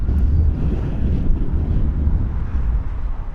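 Strong wind buffets the microphone at Heathrow Airport, a steady loud low roar with gusty surges that fills the whole stretch without pause.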